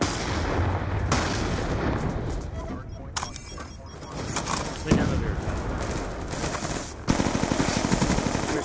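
Automatic gunfire sprays repeatedly in Black Ops 2 multiplayer, with sustained bursts, loud cracks and a rapid closing volley, while a voice talks over the shooting.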